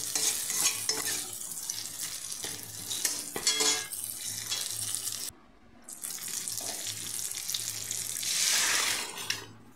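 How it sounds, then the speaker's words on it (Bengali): Poppy seed paste tempering being stirred and fried in a pan in a Bengali kitchen, a steady sizzle with scraping stir strokes throughout, a brief lull midway, and a running water-like hiss swelling near the end. "পোস্ত বাটা দিয়ে এই ফোড়নটা ভালো করে কষিয়ে নিচ্ছি।"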